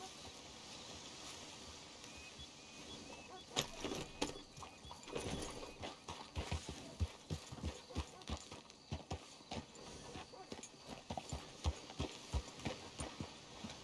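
Horse hooves clip-clop in Red Dead Redemption 2 in an uneven, steady walking rhythm, fairly close, with a quiet ambient hiss underneath.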